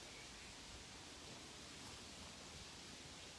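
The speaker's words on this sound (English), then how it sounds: "and the sound of the burn, the waterfall." A small waterfall on a stream: a steady, broadband rush of falling water, faint and continuous, with no voices or other sounds breaking through.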